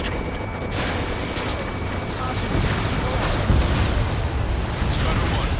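Explosion of a destroyed warship target in Ace Combat 7, a dense rumbling blast that swells and holds steady over continuous roaring game noise, with a voice talking over it.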